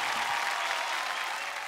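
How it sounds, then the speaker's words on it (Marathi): A crowd at a Marathi television reality show finale applauds the winners with brief, steady, moderately soft clapping that forms an even wash of sound. "त्यामुळे जोरदार टाळ्या सगळ्यांसाठीच"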